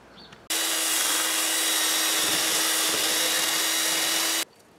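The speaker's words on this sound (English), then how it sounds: "all I'm doing is using one of these wheels, the flap wheels" A flap wheel on a power tool sands a rusty metal blade for a chainsaw-carved scarecrow, a sustained loud whining grind that starts abruptly and stops abruptly after about four seconds.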